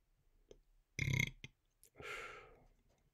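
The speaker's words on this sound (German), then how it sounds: "Aufstoßen." A deep, loud burp erupts near the mic, preceded by soft clicks and followed by a breathy exhale, with no talk.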